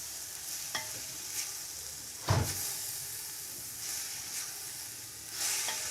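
Salt stirred into egg fried rice with vegetables frying in a pan, a soft steady sizzle with a few light spatula scrapes and one louder clank, all close and without voices.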